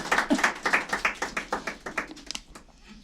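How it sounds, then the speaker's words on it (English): A small poetry-session audience claps in a steady patter of hand claps that is close and fairly loud for about two and a half seconds, then thins out into a few scattered claps. "Clap if you liked it."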